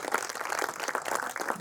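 A school festival audience breaks into a dense, continuous wash of applause for the teachers. It is fairly faint and sounds like a large crowd clapping at a distance.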